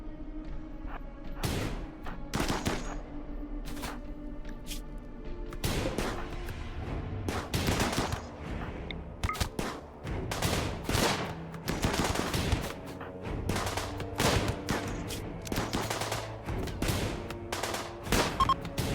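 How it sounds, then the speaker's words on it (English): Chain shotgun fire in the RimWorld video game during a raid on a besieged frozen town: repeated sharp blasts in rapid bursts and scattered volleys, mixed with other gunshots and thuds, with no speech. "This is a chain shotgun."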